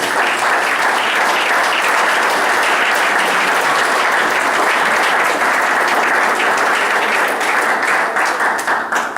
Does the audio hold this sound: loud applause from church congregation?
yes